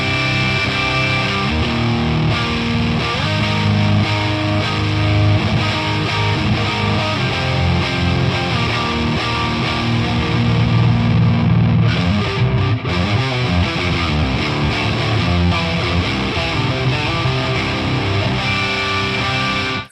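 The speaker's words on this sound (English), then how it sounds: "that's a very thick sounding high gain amp that we're working with at the moment" High-gain electric guitar played through the Nembrini Audio Hughes & Kettner Coreblade amp plugin on its default Ultra 1 tone with delay and reverb, thick distorted chords and riffs ringing loud and continuous, with no voice.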